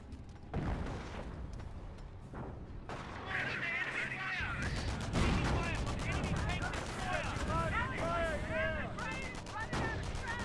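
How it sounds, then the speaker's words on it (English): Gunfire and explosions in the World War II strategy game Company of Heroes, dense overlapping rifle and machine-gun bursts with heavy booms, continuous and loud, while a commentator talks over the battle. "MV-42 firing away."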